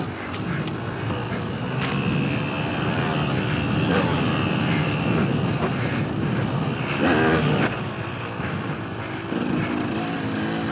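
Small-displacement motorcycle engine droning steadily while being ridden, close and constant with slight rises and dips in revs and some wind noise.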